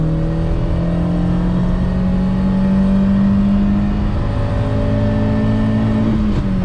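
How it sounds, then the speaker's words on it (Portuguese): A VW Gol 1.6 with the AP engine accelerates hard in second gear, its loud engine note climbing steadily in pitch as the revs rise, close and continuous with no talk. "mais uma retomada, segunda, pé embaixo"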